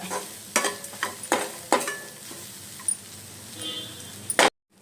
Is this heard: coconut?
yes